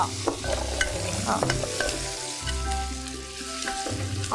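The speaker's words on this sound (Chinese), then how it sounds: "然后你看它经过油爆过，它就比较不会有腥味然后这个时候香菇给它下来， 都一样经过爆炒过" Shiitake mushrooms and dried shrimp stir-fried in hot oil for Hakka abacus seeds, with a dense steady sizzle and rapid spatula scraping and tossing close by, and no talking heard.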